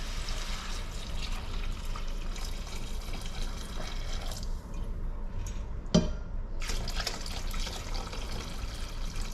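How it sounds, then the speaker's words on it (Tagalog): Broth pours into a pot of pinapaitan with a steady splashing, gurgling wash of liquid that runs throughout, plus a brief clink near the middle, with no talk. "Siyempre, lagyan ng sabaw."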